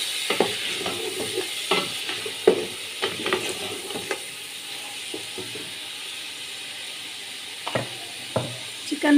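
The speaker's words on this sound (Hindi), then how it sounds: "इसमें हम डालेंगे चिकन और इसको भून लेंगे अच्छी तरह से।" Chicken fries with browned onions in a pan for desi chicken pulao, giving a steady sizzle with scattered crackles and the scrape of stirring, close and moderately loud.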